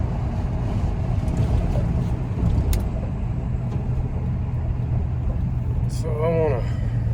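A 1990 Ford F-250 with a 5.8L engine and a coolant temperature sensor fault drives along, a steady low engine and road rumble running continuously, with a brief voice near the end.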